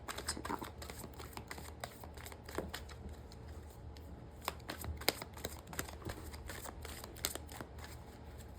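Tarot cards are shuffled by hand, giving soft, close riffling and rapid flicking clicks that repeat in uneven bursts over a quiet background with no voice.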